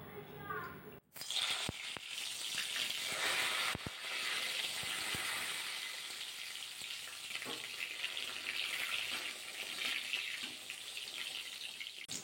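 Eggplant fries in hot oil in a wok, giving a steady, close hiss and crackle of sizzling that continues throughout, with occasional clinks from stirring.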